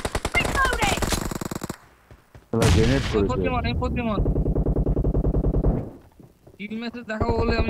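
Gunfire from a shooting video game comes in rapid automatic bursts and sharp blasts mixed with game sound effects, while players talk loudly over the action.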